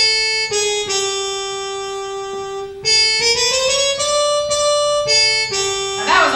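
A sustained melodic instrument plays held notes with a short chromatic grace-note run sliding up into a target note, clear and close with no talking, ending in a brighter accented attack.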